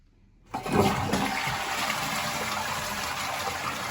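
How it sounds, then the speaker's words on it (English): A toilet flushing for the first time after a plumbing repair: a sudden loud gush of water that starts after a short silence, then a steady rushing flow that continues to the end. "Here we go, first flush."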